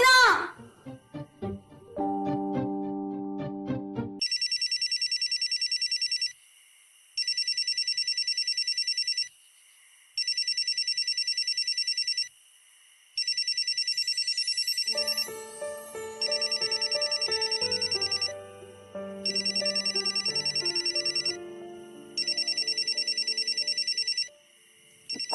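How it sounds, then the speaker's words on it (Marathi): A telephone bell rings in repeated bursts with short gaps between them. It is loud and close, inside a home at night, and after a short tune at the start, music and other sounds play under the later rings. "कोणाचा फोन आहे रे?"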